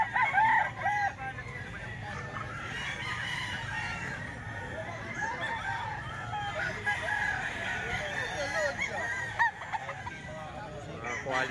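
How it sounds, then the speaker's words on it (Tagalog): Several roosters crow over a busy farmyard background, with clucking and honking fowl mixed in and steady crowd noise throughout. "Ito yung mga manok nila"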